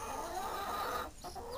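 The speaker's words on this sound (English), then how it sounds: "There's Mr. Rooster." Chickens cluck softly nearby in a steady barnyard murmur on a horse farm in Talking Rock, Georgia, with a few sharper bird calls, including a rooster, near the end.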